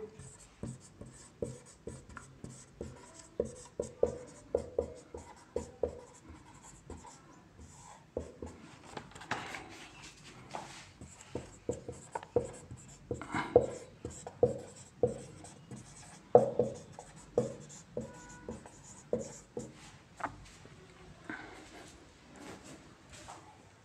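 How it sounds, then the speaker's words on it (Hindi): Pen scratching on paper as answer options are written out by hand for a REET Level 1 math question on Indian currency coins, a steady run of short strokes and taps, close and fairly quiet, with faint background noise. "ऑप्शन अगला लिखता हूं"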